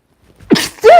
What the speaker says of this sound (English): Ooh, I gotta sneeze at the same time.